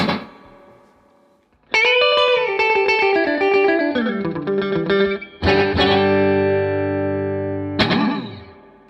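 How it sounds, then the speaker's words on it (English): Clean electric guitar on both pickups in a twangy country style, ringing chords and bent notes with a light delay trailing behind, played alone at a steady moderate volume. "I am going to go for both pickups, classic country sound"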